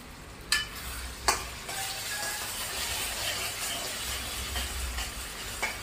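Tomatoes being stirred in a frying pan while cooking a sea fish curry, with a steady sizzle and frying hiss throughout and a few sharp scrapes of the spoon against the pan.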